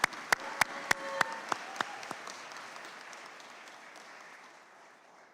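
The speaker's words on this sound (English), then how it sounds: "Hannah, a big round of applause for your incredible work." An audience at a Korean War veterans Armistice Day commemoration gives a short round of applause. About ten sharp, evenly spaced claps ring out in a reverberant hall, and the echoes die slowly away.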